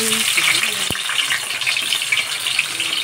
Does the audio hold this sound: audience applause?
no